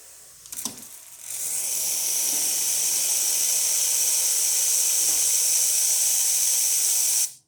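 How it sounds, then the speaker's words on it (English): After a brief clatter, a loud, steady steam hiss from a Lucca M85 espresso machine's steam wand starts and runs continuously for several seconds, then cuts off abruptly. "So let's test the steam one."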